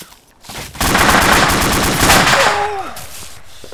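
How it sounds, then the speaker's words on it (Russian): Sustained machine-gun fire in the video game Arma 2, a loud rapid burst of shots running continuously for about three seconds at close range. "Да этот пулемет вообще, он долбит и долбит."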